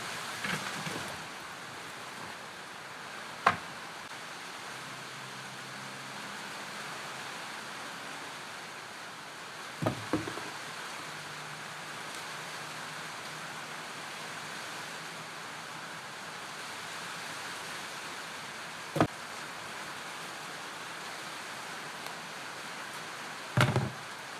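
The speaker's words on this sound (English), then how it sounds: "The wind is blowing the rain in a little." Wind-blown rain falls steadily outdoors as a constant broadband hiss with no talk, broken by a few sharp knocks or taps at irregular intervals.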